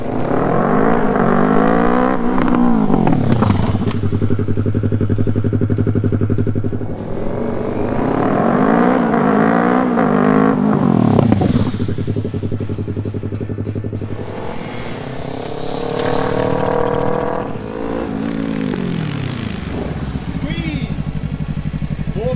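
A motorcycle with ABS making repeated hard stops from 55 mph, its engine rising and falling in several loud sweeps as it speeds up and then slows sharply, each cycle lasting a few seconds.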